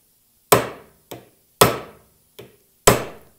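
Five sharp hammer blows drive a steering shaft part down into place during a 1967 Porsche 911 steering shaft overhaul, loud and close with short decays and uneven gaps, no talking.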